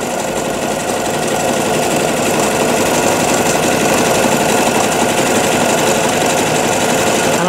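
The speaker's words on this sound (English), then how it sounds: "I'm going to add some zigzag stitch just to start giving a little bit of difference to it" A sewing machine runs a zigzag stitch across fabric with a loud, steady, rapid mechanical whirring and chattering close by, unbroken throughout.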